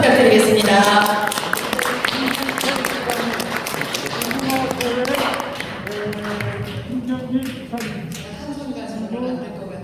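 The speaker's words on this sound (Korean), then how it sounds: "환영의 박수 부탁드리겠습니다" Welcoming applause from a Korean event audience greeting an arriving speaker, a dense steady patter of many hands that fades gradually, with talk and shuffling underneath.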